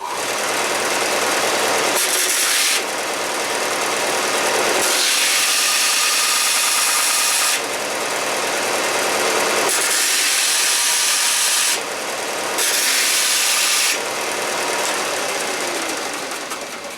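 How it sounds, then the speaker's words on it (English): An animal horn for a powder horn is sanded flat on a power sander in a loud, continuous grinding whir that surges and dips in several long passes, close and without speech. "So I'm going to sand it flat and then check it."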